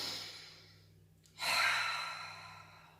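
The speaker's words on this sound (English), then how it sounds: "Stop and take a deep breath." A single deep breath: a long, soft inhale through the opening second, a short pause, then a fuller, louder exhale that fades gradually, close to the listener with no talking.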